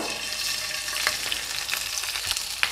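Shrimp frying in olive oil in a pan, a steady close hiss of sizzling with a few brief crackles and pops scattered through, no talking.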